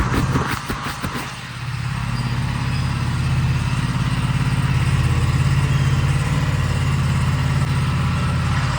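A scooter engine idles close by, a loud, steady low rumble that settles in after a few quick knocking sounds and holds evenly to the end.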